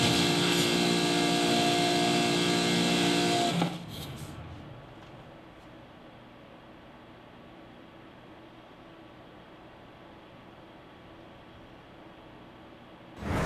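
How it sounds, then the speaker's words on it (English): A steady broadband whir of PC case fans at idle on stock settings in an all-white build with an RTX 3060, runs on its own, louder for the first few seconds, then settling into a quieter, even hum. "Even at idle, those fans do hum quite a little bit."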